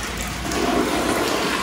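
A public toilet in Japan flushing, with a steady close rush of water that swells slightly and keeps running throughout.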